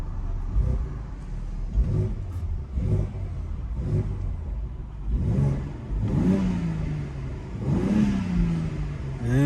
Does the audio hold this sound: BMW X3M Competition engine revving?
yes